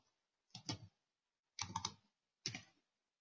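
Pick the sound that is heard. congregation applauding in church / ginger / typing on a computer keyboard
typing on a computer keyboard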